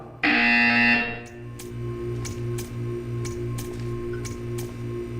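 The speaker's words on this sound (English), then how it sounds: "You will hear a buzzer. When you hear the buzzer, stare at the art." A loud, harsh electronic buzzer in the video game Portal 2 sounds for about a second, followed by a steady low hum with faint repeated ticking clicks.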